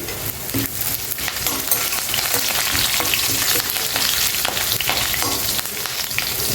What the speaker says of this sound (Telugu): తాలింపు గింజలన్నీ వేగిపోయినాయి కదా, ఇప్పుడు కొంచెం కరివేపాకు వేసుకోండి.